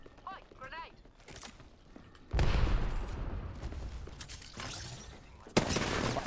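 Gunfire and grenade explosions in a video game break out after a quiet stretch as a loud burst of blasts and shots, then continue with dense rattling fire and another sharp crack near the end, with voices mixed in.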